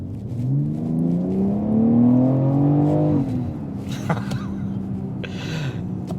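2021 BMW X4M with a 503-horsepower engine accelerating hard from inside, its rising drone climbing steadily for about three seconds before easing off into a lower cruise as a gear change settles in.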